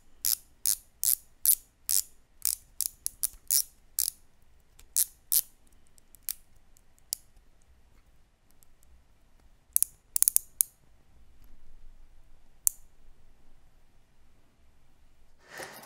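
The rotating bezel of a Pagani Design watch ratchets in a quick series of sharp, close clicks, then slows to scattered single clicks with long quiet gaps.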